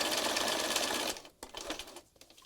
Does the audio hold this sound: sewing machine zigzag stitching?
yes